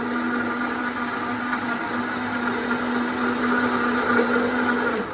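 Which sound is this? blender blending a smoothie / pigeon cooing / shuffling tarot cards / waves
blender blending a smoothie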